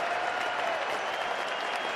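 A cricket crowd at Lord's during an England versus New Zealand Test applauds steadily, a dense, even wash of clapping heard from a distance for the whole moment.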